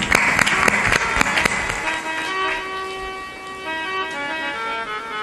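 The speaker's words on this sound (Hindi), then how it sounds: "ताली बजा दो।" Devotees at a satsang clap, with sharp, distinct claps at the start that fade out within two seconds, followed by a sustained ringing bell-like tone under a faint murmur.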